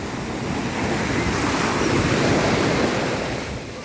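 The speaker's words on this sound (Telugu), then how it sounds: "ఎంత పెద్ద అలలు ఉన్నాయి చూడు" Big ocean waves roll in at Kothakoduru beach near Nellore, a loud, continuous roar of surf with wind buffeting the microphone, swelling and easing over a few seconds.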